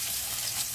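Cornstarch-coated chicken and shrimp fry in hot oil, giving a steady, close hiss of sizzling with no talk over it.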